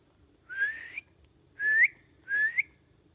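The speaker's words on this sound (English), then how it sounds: "Let's stop and whistle." A person whistles outdoors: three separate rising whistle phrases, each about half a second long, evenly spaced and clear against faint background noise.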